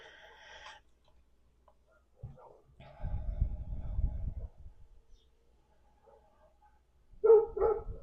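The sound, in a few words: dogs barking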